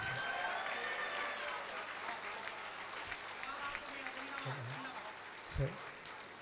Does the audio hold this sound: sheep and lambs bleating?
no